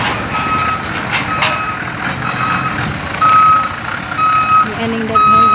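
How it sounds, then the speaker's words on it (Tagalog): Trucks maneuvering at the busy port-side Tubigon public market in Bohol emit steady, repeating reversing beeps over loud engine rumble and street bustle, with nearby people talking underneath. "Aning daghang truck."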